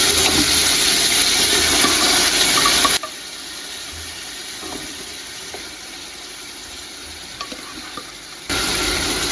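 Boiled mutton drops into hot oil and ghee in a pot for home-style mutton biryani, giving a loud, dense sizzle for about three seconds that then falls to a softer, steady frying hiss before flaring loud again near the end.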